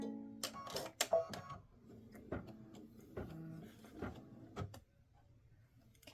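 An embroidery machine stitches a patch in navy blue thread, giving quick irregular mechanical clacks and thumps at close range that stop near the end.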